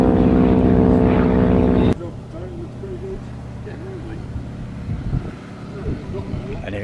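A propeller aircraft comes in to land at an air show, a loud droning engine tone at first that then drops to a fainter, distant rumble while someone talks over it.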